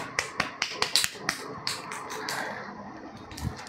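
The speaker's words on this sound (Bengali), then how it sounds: "তার জন্য একটা হাততালি" One person gives a quick round of clapping for a viewer. About eight sharp, close claps come in a fast burst, followed by faint rustling and quiet room sound.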